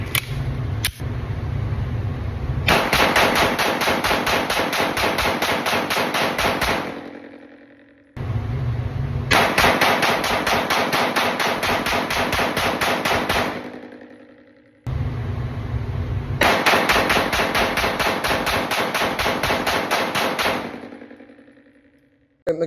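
Three long, sustained bursts of rapid fire from a Walther PDP Full Size pistol, each full-magazine dump running several seconds before trailing off, with brief pauses between strings.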